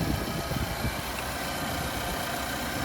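A 2022 Nissan Armada SL's 5.6-liter Endurance V8 idling, heard as a steady, close, continuous engine rumble with broadband hiss and even loudness throughout, no voices over it.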